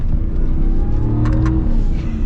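A Ram TRX pickup truck accelerates hard along a short straightaway on an off-road course, its engine roaring steadily and loudly throughout, with a couple of brief higher-pitched bursts partway through.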